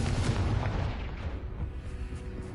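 A Confringo blasting curse goes off in the game Hogwarts Legacy, a heavy rumbling explosion loud at first and slowly thinning into a softer crackling tail, with no one talking.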